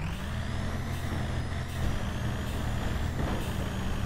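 Gavril D Series truck engine in the driving game BeamNG.drive, a steady loud low rumble with a droning whine running throughout, close and continuous with no talk over it.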